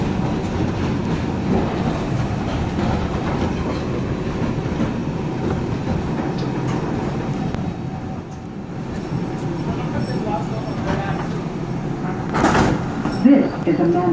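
An R142 New York City subway train running on the 2 line in the Bronx toward Manhattan, a steady loud rumble and rattle of the car in motion throughout, with a brief louder burst near the end.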